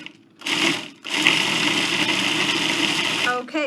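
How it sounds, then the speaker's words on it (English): A kitchen blender whirs loudly up close in two bursts, a short spin and then a longer steady run, with a voice speaking over it. "It's just a quick whir of the blender."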